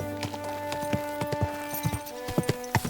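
In the video game Kingdom Come: Deliverance II, horse hooves clip-clop in an uneven rhythm over a steady background music drone, several distinct hoof strikes close by.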